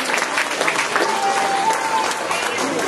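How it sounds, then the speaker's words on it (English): A zoo audience claps steadily through the whole stretch after an elephant show at the Singapore Zoo, a moderate, even applause with voices mixed in. "they were clapping, but they don't sound impressed"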